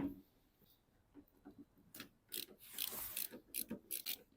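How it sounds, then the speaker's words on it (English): Screws being worked out of the tail lamp inner panel on a 2011 Ford Mondeo, with soft ratcheting clicks and light scraping that build into a busier run of metallic ticks near the end, close and fairly quiet. "I'm going to remove six screws."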